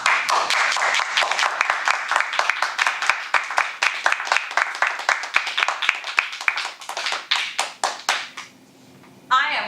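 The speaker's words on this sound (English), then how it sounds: "Pleased right now at the level of clapping that this group is doing." A Toastmasters meeting audience claps in a crisp, rhythmic burst of individual hand slaps, close and lively, tapering into scattered claps before a brief noise at the end.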